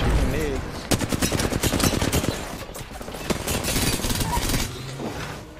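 Rampage light machine gun fire in the battle royale game Apex Legends pounds in dense, rapid sustained bursts, loud and close, with brief pauses and scattered distant shots mixed in, while a voice talks faintly underneath.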